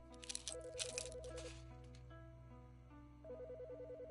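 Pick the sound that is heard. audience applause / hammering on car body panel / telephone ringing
telephone ringing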